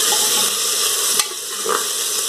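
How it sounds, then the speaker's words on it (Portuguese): Chopped onion frying in oil in a pan, a steady close sizzle with a brief scrape of stirring partway through; no talking. "Coloquei a cebola. Dá uma mexidinha"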